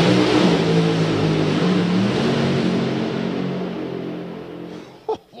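A race car's engine at a motorsport event climbs in pitch as it gets back on the throttle, a loud sustained revving drone that gradually eases away, ending with a brief sharp burst.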